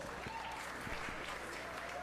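Audience clapping at a 4-H fair sheep show, a short steady patter of many hands at moderate level, with faint murmur underneath.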